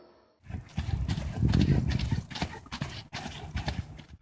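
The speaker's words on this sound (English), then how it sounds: "The Percheron is a large, powerful draft horse that originated in northern France" Hooves of a Percheron, a large draft horse breed from northern France, clop in a quick uneven rhythm close by, with scuffs and a brief snort mixed among the steps.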